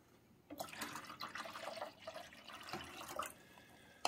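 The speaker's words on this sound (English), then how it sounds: "And then we're going to add the water." Water splashing and trickling steadily into the reservoir of a Keurig K-Classic coffee maker, a close, moderately quiet pour lasting a few seconds.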